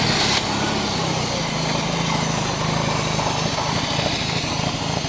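A repaired Toyota truck engine runs with a buzzy, even drone at moderate distance, fairly quiet and without pronounced rev peaks, and no one talks over it.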